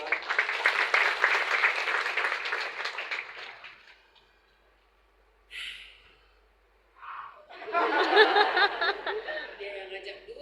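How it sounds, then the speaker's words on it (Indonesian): A church congregation bursts into applause and cheering for several seconds, falls quiet with a brief murmur, then breaks into a second round of clapping and laughter. "Tepuk tangannya mana saudara?"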